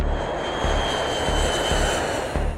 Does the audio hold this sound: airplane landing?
yes